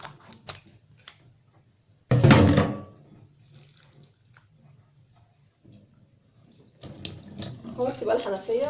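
Water gushes from a kitchen tap while a mullet is cleaned at the sink, a loud burst of about a second, then faint handling noises and a second stretch of running water near the end.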